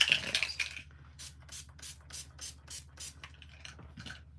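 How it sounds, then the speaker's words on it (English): A spray bottle fires a series of short, hissy bursts in a steady rhythm, close by, with a low background hum underneath. "Give it a spray."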